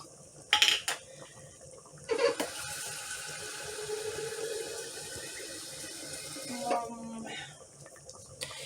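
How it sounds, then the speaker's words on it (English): Water poured over pasta in an Instant Pot: a short clatter of a pot, then a steady rushing fill of running water lasting several seconds, ending with another brief knock. "So you want to add some more water."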